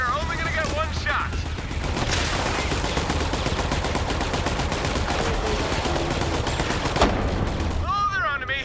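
Sustained bursts of automatic gunfire roar through a chaotic Borderlands 3 fight against an asteroid reactor, continuous and dense with crashes and mechanical clatter, while voices talk over the shooting.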